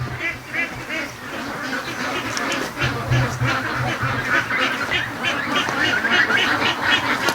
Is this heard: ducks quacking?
yes